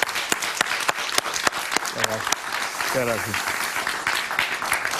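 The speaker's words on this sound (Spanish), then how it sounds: "un aplauso para él, por favor" Studio audience applauding on a late-night Spanish-language television talk show in Miami, steady loud clapping throughout with someone briefly speaking over it.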